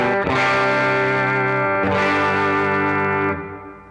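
Distorted electric guitar played through a Morning Drive overdrive pedal model on a NU-X MP2 Mighty Plug amp modeler, two loud sustained strummed chords ringing out and then fading.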